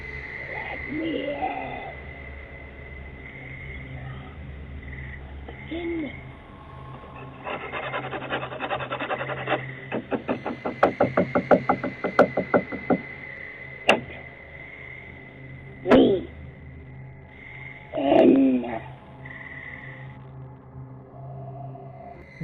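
Scratching and rasping against a door, with eerie moaning female vocal sounds before and after; the scratching comes in a dense burst of rhythmic strokes in the middle, then two short, louder scrapes near the end.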